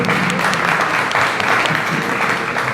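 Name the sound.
audience applause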